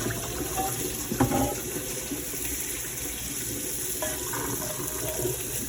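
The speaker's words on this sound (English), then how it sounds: "So we're gonna pour this water out again." Water poured out of a pot in a home kitchen while making potato salad, a steady close splashing rush with a couple of brief louder splashes, no talking.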